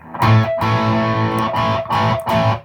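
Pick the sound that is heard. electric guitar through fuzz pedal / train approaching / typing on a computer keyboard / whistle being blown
electric guitar through fuzz pedal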